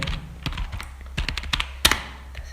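Computer keyboard typing during an online UPSC EPFO application form entry, with irregular bursts of key clicks and a few sharper single strikes, close and fairly quiet.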